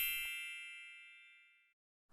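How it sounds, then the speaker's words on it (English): A single bright bell-like notification ding rings out and fades smoothly over about a second and a half, clean and alone, followed by a brief silence. "ringing that notification bell"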